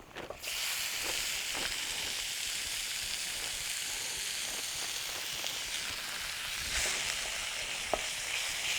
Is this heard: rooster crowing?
no